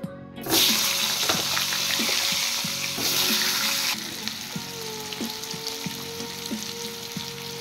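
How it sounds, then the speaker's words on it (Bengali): Potatoes frying in hot oil in a home kitchen pan, a steady loud sizzle with occasional stirring clicks and scrapes; the hiss drops a little partway through but continues throughout, with no talking. "এবার আমি আলুগুলো ফ্রাই করে নেব।"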